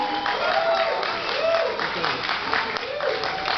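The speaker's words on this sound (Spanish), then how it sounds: "pido un fuerte aplauso" Audience applause at an international university tuna music festival swells and fades in waves, fairly faint and mixed with crowd voices and a few whistles.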